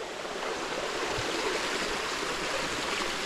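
A continuous rushing of flowing stream water, steady and broadband, with no voices.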